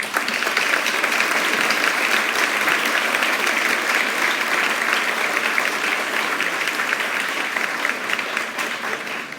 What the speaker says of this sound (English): I think that in itself deserves a congratulatory applause.